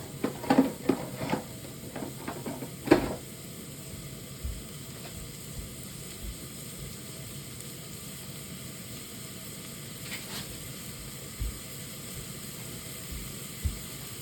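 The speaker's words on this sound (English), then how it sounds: "Put the onion into the fire, into the pot." Onion frying in a pot for Japanese-style hamburger steak gives a steady, soft sizzle, with a few sharp stirring clatters in the first three seconds and then continuous hiss alone, with no talk.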